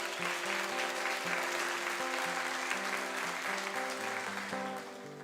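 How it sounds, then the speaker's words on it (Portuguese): A church congregation claps for Jesus, an even sustained patter of many hands under a steady organ or keyboard chord, fairly quiet and continuous before easing off. "Uma salva de palmas para Jesus."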